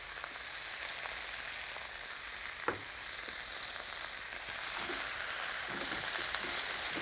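Pork and shrimp stir-fry in a wok with a soft, continuous sizzle and a few sharp utensil clicks against the pan, quiet and without talk.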